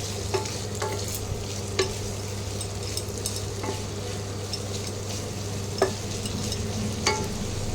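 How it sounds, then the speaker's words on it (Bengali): Onions frying in a pan at the start of a coriander chicken dish: a steady, close sizzle with occasional soft clinks and scrapes of stirring, no talking. "প্রথমে পেঁয়াজটাকে একটু ভালো করে ভেজে নিতে হবে।"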